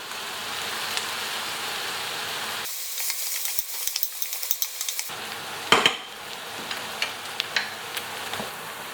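Mushrooms go into a pressure cooker pot and get stirred, with scraping and clinking of a utensil against the metal in short irregular bursts over a steady background hiss, close and moderately loud.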